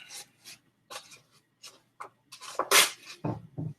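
A sheet of sandpaper is torn into four pieces, heard as a series of short, rough ripping and rasping bursts up close. The bursts grow louder and denser toward the end, with no talking.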